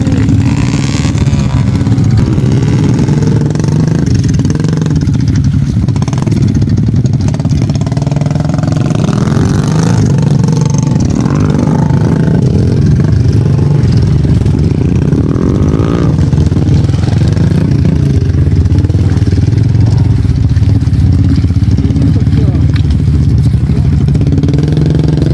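A motorcycle engine runs loud and close on a muddy rural road in remote Seko, North Luwu, South Sulawesi, a steady rough drone with clattering and shifts in revs throughout.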